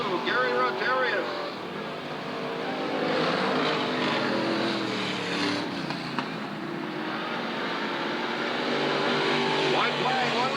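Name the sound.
race cars battling for lead on slick dirt speedway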